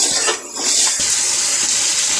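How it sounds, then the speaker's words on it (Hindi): Water poured from glasses into a pot of fried chicken masala for biryani, a steady broadband rush of liquid with a brief dip partway, loud and close, no talk. "इसमें हम 12 गिलास पानी डाल देंगे।"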